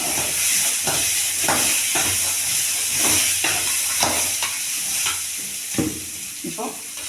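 Pea sundal with curry leaves for a coconut and raw mango snack sizzles in a hot pan, with rhythmic scraping stirs cutting through a steady hiss of frying, close up.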